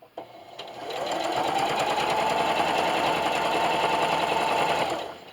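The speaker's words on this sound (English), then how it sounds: "Needle down, spin," A sewing machine quilts straight lines across an upcycled scrappy patch bathmat, running in one steady, close, continuous burst for about five seconds after a brief start.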